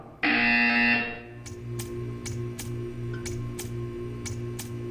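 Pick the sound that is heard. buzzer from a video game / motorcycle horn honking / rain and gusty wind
buzzer from a video game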